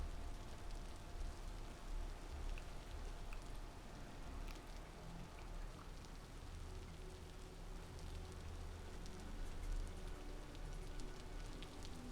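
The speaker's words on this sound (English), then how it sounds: "This place is too rainy." Steady, dense rain falls in the survival game Vintage Story, a continuous hiss of drops with no break and no voices over it.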